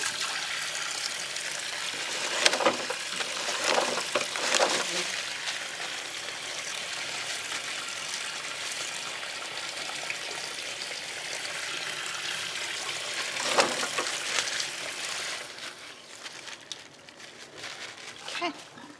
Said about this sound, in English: With my fingertips pointing down, I'm gonna rinse my hands off.